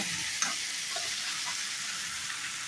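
Potatoes, tomatoes and onions fry in a pan with a steady, bright hiss of sizzling oil, broken by a few faint scrapes as they are stirred.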